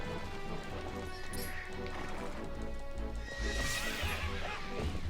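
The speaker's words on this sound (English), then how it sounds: "I just sliced the horse, I'm sorry." A horse neighs in the video game The Legend of Zelda: Twilight Princess HD, a whinny set against dense, continuous game music and effects, with a brighter burst of sound near the end.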